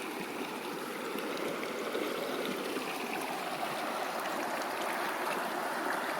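A creek in Idaho flows and burbles steadily, a continuous broadband rush with small gurgles, close by and unchanging throughout.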